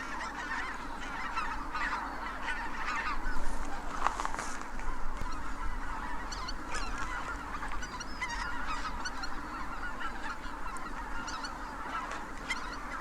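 Tens of thousands of wild geese honk together at dawn on the frozen Togyo reservoir in Cheorwon as the flock lifts off, a dense, continuous chorus of overlapping calls with a steady low rumble beneath.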